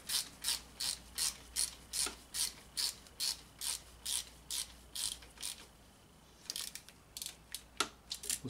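A 3/8 inch ratchet snugging up the transmission drain plug on a 2013-2017 Honda Accord 3.5L V6, giving a close, quiet, rhythmic series of clicking strokes with a short pause before a few more.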